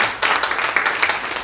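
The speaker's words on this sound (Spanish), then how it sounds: "Un fuerte aplauso a nuestro Señor Jesucristo." A church congregation claps for Jesus Christ during a worship service, a dense steady burst of applause filling the short clip without breaks.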